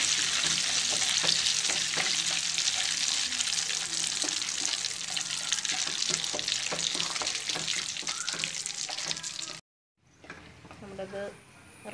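Banana chips fry in hot oil for an Onam feast: a loud, dense, continuous sizzle with stirring scrapes, then a brief cut to a quieter stretch.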